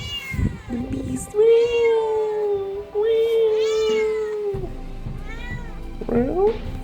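Several cats meow loudly while feeding, giving long drawn-out wailing calls in close succession, one after another, near and prominent.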